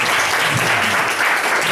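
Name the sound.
applause for Pak Rocky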